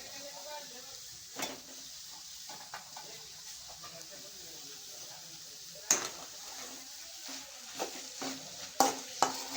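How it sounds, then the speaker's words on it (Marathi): Wild kavdar greens hit a hot pan already seasoned with onion, garlic and turmeric, giving a soft steady sizzle with a few sharp clinks of a spoon against the pan as they are stirred, under quiet background talk. "हळद दोनच मसाले टाकू आणि आता भाजी टाकू"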